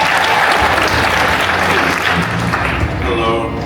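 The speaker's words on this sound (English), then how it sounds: "Give them a round of applause, please." A crowd at a Black History Month kickoff celebration claps loudly and steadily for award recipients, the applause thinning slightly near the end as a voice starts to come through.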